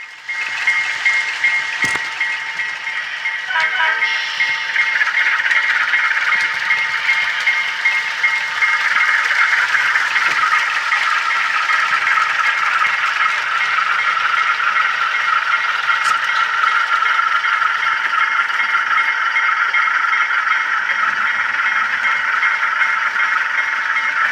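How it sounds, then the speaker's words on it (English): A small Intermountain U18B model locomotive rattles and whirs steadily along its track, a continuous mechanical clatter with a high motor whine, close and fairly loud. "the locomotive runs very well and sounds excellent"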